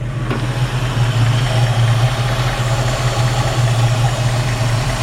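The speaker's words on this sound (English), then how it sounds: "engine runs smooth" A 1964 Chevrolet C10 pickup truck engine idles steadily up close, a low, even rumble throughout with no voices.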